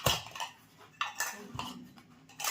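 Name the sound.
dabara set and biryani pot dishes being handled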